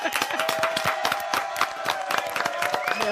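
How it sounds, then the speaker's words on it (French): A crowd claps and cheers for Jamila at a Friday evening event, with a dense patter of hands and scattered shouts running throughout, fairly close and lively, while a sustained tone hums along underneath. "applaudissements pour Jamila"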